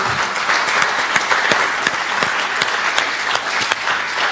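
A church congregation claps together in sustained, dense applause, loud and even throughout with sharper individual claps standing out.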